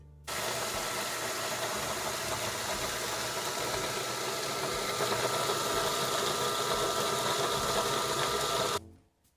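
A food processor grinds nuts, oats and moist raisins in one steady, loud, continuous whir that starts abruptly and then cuts off near the end.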